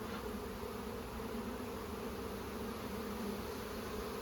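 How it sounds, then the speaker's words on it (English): Agitated honey bees buzzing steadily after being smoked while a hive is split, a dense continuous drone of many insects close by, without a break and with no talk. "So I'm gonna smoke them to get the bees away from here. You can see how they get agitated right away."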